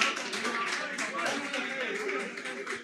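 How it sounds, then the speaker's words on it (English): Crowd applause at a pool match in Mchana Pub and Grill, Nairobi, Kenya: steady, dense clapping from many hands throughout, with a voice talking over it and lively pub ambience. "The crowd is clapping."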